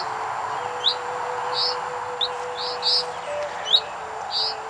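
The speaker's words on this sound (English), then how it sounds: "a familiar sound is evident. Birdsong" Birdsong at dawn in misty countryside, where a chaffinch greets the day: repeated short, bright chirps from a few birds, moderately close, over a steady background hush.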